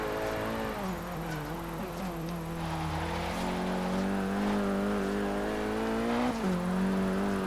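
A Renault Clio RS200 in the Forza Horizon 3 racing game accelerates hard, its engine droning and climbing steadily in pitch, with a quick dip at a gear change before rising again.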